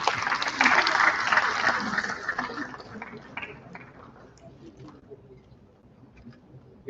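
Conference audience applause after a speaker from NIT Jalandhar is thanked, a dense burst of clapping that starts loud and gradually thins and fades over several seconds.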